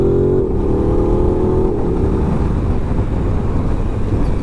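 An Aprilia RS 660 sport motorcycle accelerates hard through first and second gear. Its loud, close engine note climbs, drops sharply at each quick upshift, then keeps pulling steadily, with no voices.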